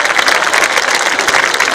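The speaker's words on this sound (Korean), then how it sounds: "여러분, 이렇게 멋진 행사를 준비해 주신 모든 분들에게 뜨거운 박수 부탁드리겠습니다." A large audience applauds at the opening ceremony of the 27th Icheon Ceramics Festival in 2023, with a dense, steady wash of many hands clapping at full volume for just under two seconds, and no voices on top.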